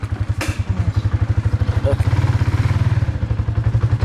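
A motorcycle engine thumps in a rapid, even idle rhythm up close while voices talk over it and the pulse rises slightly as it gets going.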